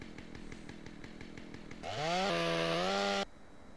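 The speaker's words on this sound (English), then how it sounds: "Oh, just chilling with the chainsaw." A chainsaw in GTA San Andreas idles with a rapid putter, then revs up to a loud whining roar for about a second before cutting back.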